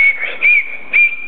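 A child whistles a steady high tone with a few brief pulses where it swells louder, close and clear with no talking.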